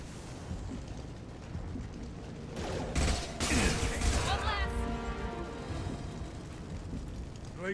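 Gunfire from the Mass Effect 2 video game crackles in a sustained burst at mid-distance, swelling in the middle and then trailing off, with a voice talking over the game audio.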